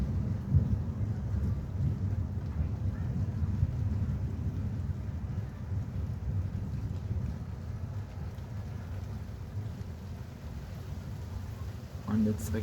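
Heavy rain pours steadily during an evening thunderstorm at the Wolfgangsee, a dense low roar with faint rumbling underneath, fairly quiet and constant, easing slightly near the end.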